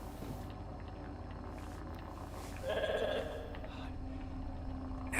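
A sheep in the video game The Alters bleats once when petted, a short wavering cry heard over a steady low ambient game hum.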